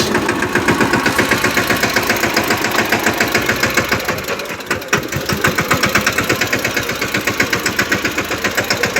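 A tractor engine chugs loudly and steadily at close range, its rapid, even knocking pulses broken by one brief dip midway before the rhythm resumes.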